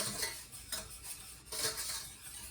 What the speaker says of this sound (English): you want to whisk it until it's smooth and has thickened